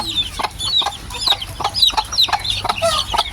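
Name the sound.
Hatch gray chickens clucking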